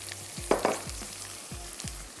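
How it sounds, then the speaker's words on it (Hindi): Green chili paste and cumin fry in a pan, giving a soft steady sizzle with a few light stirring scrapes near the start. The sound is close but fairly quiet, with no voices. "इसके बाद हम इसमें ऐड करने जा रहे हैं हरी मिर्चों का पेस्ट। साथ ही हम ऐड कर देंगे इसमें ज़ीरा।"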